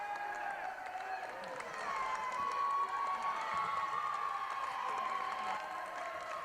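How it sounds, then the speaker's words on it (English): A football stadium crowd cheers after a goal, a broad roar of voices that swells midway and stays loud, with a distant commentator talking over it. "The crowd goes wild."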